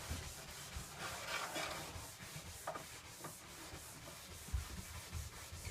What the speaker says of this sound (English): And then you scrape the edges of your skis.